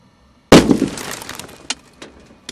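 A golf ball fired from a cannon strikes a Dodge Caravan windshield with one loud, sharp glass crack, followed by a few faint scattered clinks and ticks of falling fragments over the next two seconds.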